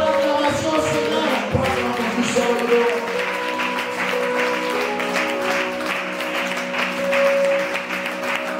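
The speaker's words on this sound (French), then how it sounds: "Est-ce que tu peux acclamer le Seigneur?" Congregation applauding and cheering in a church service, a dense, steady wash of clapping with voices and sustained tones mixed in throughout, close and fairly loud.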